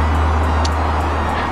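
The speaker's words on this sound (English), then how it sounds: "Sorry about the loud traffic" Loud, constant road traffic rumbles past a bus stop with a heavy low drone throughout and no break.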